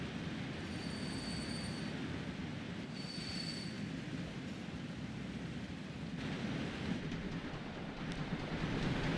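Trains roll along a railway in the video game Transport Fever 2, a continuous rumbling rail noise with faint high wheel squeals over it, steady and fairly distant throughout.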